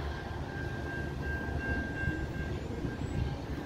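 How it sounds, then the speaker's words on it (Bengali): Diesel double-decker local train at a station, a steady low engine and rolling rumble with a faint sustained tone, heard alone at moderate distance. "ট্রেনটি ডিজেল চালিত, খুব সুন্দর দেখতে।"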